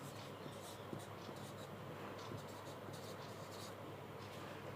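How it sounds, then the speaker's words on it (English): Pen or marker scratching steadily across a surface while working a multiplication problem by hand, a faint continuous scribbling texture with low background hum and no talking. "Now write here."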